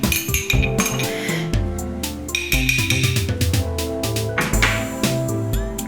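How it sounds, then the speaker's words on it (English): A spoon clinks and rattles steadily against a glass while stirring a Sazerac cocktail, close up, with tonal background music playing throughout. "I'm just gonna take my spoon, stir it up a touch"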